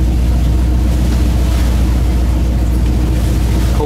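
A fishing trawler from a Vietnamese fishing fleet runs at sea. Its engine gives a steady, loud, low drone that goes on without a break under wind and water noise, and no one speaks.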